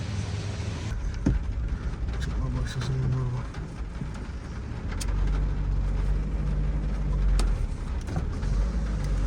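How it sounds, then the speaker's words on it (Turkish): Road traffic in a jam, with engines idling and rumbling nearby, low steady drone and occasional passing vehicle swells, with people talking over it. "Ya anam bu ne trafiktir böyle ya."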